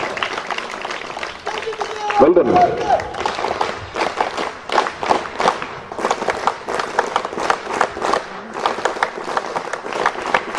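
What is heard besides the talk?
audience applause at Independence Day college celebration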